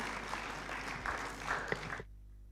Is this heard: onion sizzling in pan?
no